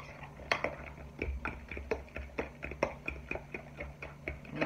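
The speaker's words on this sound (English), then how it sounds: "we're going to continue to give it a good mix. I'm using a fork" A fork beating banana fritter batter with sugar in a bowl, steady rhythmic clinks and taps about two to three per second, close and fairly quiet with no talking.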